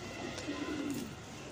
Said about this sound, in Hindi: ये मैं आज आपके लिए टैडी कबूतरों की वीडियो लाया हूँ